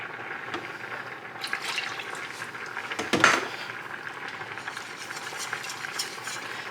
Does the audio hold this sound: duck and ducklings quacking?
no